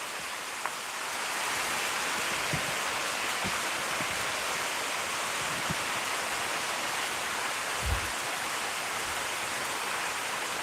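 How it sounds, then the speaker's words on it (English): Heavy rain pours steadily outside, a dense, even hiss that fills the background with no break, with a few faint knocks and thumps scattered through it. "Can you guys hear the rain through my microphone? Is it that loud?"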